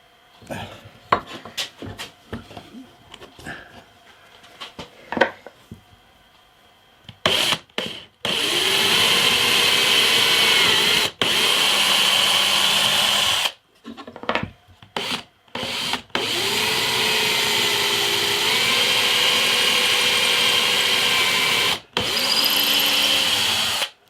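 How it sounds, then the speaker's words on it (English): A 3mm drill bores a pilot hole into a wooden guitar neck, opening with scattered taps and handling knocks, then loud sustained whirring bursts broken by short pauses. "I've got a 3mm drill here. I'll do a 3mm pilot hole first, just there"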